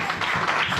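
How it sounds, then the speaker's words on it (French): Church congregation applauding and acclaiming Jesus, a dense, steady wash of many hands clapping together with voices mixed in, continuous and fairly loud throughout the brief moment. "J'aimerais qu'on acclame Jésus."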